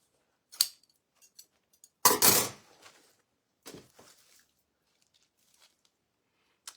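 Something is being cut down in a few sharp snipping bursts, the loudest near the middle, with quiet gaps between them.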